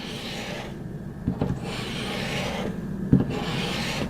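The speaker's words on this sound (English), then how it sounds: "you have to press down and then it releases glue and then you can drag it down" A glue pen pressed down and dragged across a Scan N Cut cutting mat, giving a steady close scraping rub with two brief louder scuffs, no talking.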